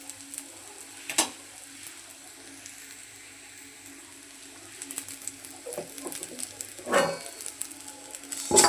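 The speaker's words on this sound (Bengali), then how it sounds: "পোলাও চালগুলো সুন্দর করে ভেজে নিচ্ছি" Pulao rice being fried in a pan for chicken biryani, a soft steady sizzle with occasional stirring scrapes and clinks rising near the end, no talking.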